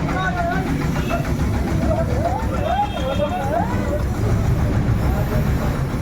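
A power tiller engine chugs steadily during repair, a loud rhythmic mechanical rumble with people talking over it.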